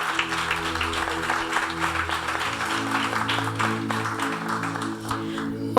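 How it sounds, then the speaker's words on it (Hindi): An audience claps in appreciation after a recited poem at a church program, a dense patter of applause running steadily beneath a sustained musical tone or hum. "आए एक बार फिर से ज़ोरदार तालियां बजाएंगे इस खूबसूरत कलाम के लिए।"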